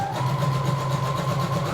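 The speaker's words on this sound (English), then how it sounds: "So I'm stretching my elastic and I'm going to start sewing." A sewing machine motor hums steadily and evenly while stitching stretched elastic onto jersey fabric for a pleated skirt. The whir is close and continuous, with no talking.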